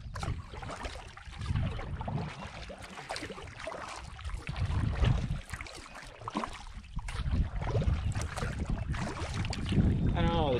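A solo canoe is paddled across Canoe Lake in the Boundary Waters, with continuous close water swishing and churning mixed with heavy wind buffeting on the microphone.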